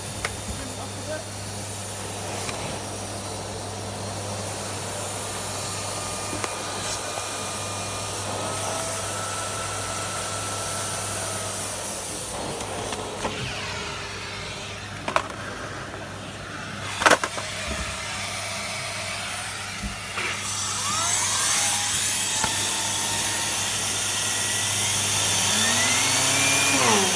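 A well-used Miele S5261 vacuum cleaner motor runs steadily with a droning hum and hiss, its pitch rising later as the power is turned up, with someone talking over it.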